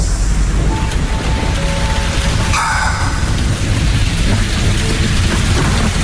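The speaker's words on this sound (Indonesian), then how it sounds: "dari luar terdengar petir dan tiba-tiba hujan turun cukup deras" Heavy rain hisses steadily throughout a radio-story sound effect, with a low rumble of thunder swelling briefly near the middle before the downpour carries on alone.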